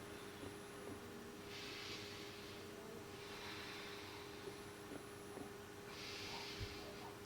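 A person doing yoga in the cobra pose with an ab workout exhales in soft, breathy hisses that come in three separate bursts over a low, steady background hum. No voices are heard.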